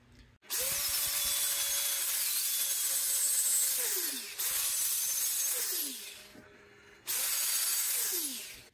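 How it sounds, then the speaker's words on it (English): A wooden off-center bowl is sanded on a lathe: the motor whines up, runs steadily with a rough rubbing hiss, then winds down, repeating three times up close. "And now I'm gonna sand this just a little bit to get it smooth"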